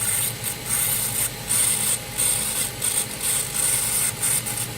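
Scissor bevel convexed against a running 5 micron sharpening belt, a steady mechanical belt whir with a high hiss that swells and fades in regular up-and-down strokes, close and unaccompanied by speech.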